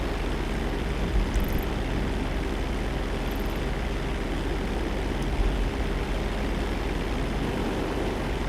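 A plane's engine roars loudly and continuously in GTA Online, a dense, steady broadband drone with faint rumbling low end and no voices, holding at the same level throughout.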